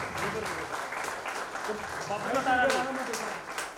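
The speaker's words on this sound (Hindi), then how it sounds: "एक जरा जोरदार ताली से उनका स्वागत किया जाए" Audience applause welcoming a guest at a film poster launch press conference, a moderate burst of clapping from a room crowd, mixed with a voice speaking over it.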